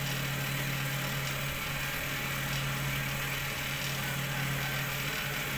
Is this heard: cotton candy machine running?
yes